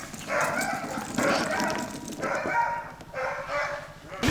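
Husky sled dogs in snowy Lapland yelp and bark in repeated bursts, several dogs close by with excited whining calls in short, rhythmic outbursts.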